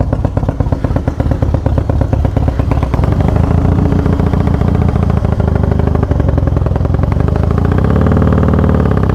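A motorcycle engine fitted with Feuling 525 cams, hydraulic cam chain tensioners and a Dynatek TC88 ignition, started without the choke, runs close and loud with a lumpy uneven idle that rises into a smoother drone.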